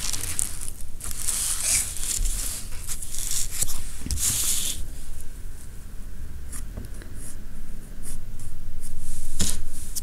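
A clutch pencil scratches across paper during a bird drawing, with quick strokes and hatching that come close and in bursts, with brief pauses and a rising rasp toward the end.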